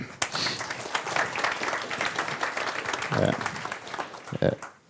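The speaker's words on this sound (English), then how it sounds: "you should give them a big applause, the guys up here" Audience at a panel session on GDPR clapping for the panelists, a dense round of applause with a few louder claps and some voices mixed in.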